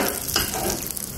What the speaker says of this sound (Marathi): आपण हे कडकडीत तेल टाकणार आहे.